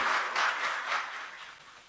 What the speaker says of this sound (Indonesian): Tepuk tangan untuk Presiden kita Bapak Joko Widodo